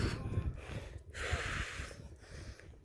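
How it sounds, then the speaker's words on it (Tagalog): Heavy panting after a climb at a cold hillside spot near Baguio City: a few loud, close gasps and snorting breaths, with one long rushing exhale in the middle and no speech. "Inabot pa kong hingal."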